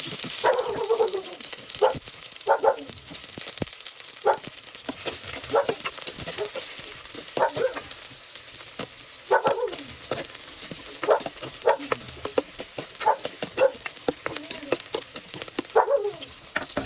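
Chopped onion goes into a pan of frying garlic and ginger for a chicken dish, giving a constant bright sizzle broken by repeated sharp scraping and clacking from stirring.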